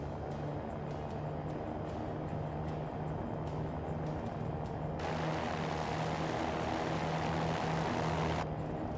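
A Cirrus SR20 propeller engine drones steadily at full power on its takeoff roll in the X-Plane 11 flight simulator. The hum is constant and fairly quiet, and its brightness swells partway through, with no talk.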